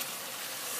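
Carrots and ginger sizzling in a hot pan alongside cooked veal, a steady, bright frying hiss that stays even throughout, close up with no talking.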